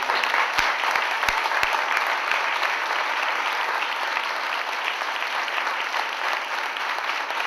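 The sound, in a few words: audience applause for former mayor Montanari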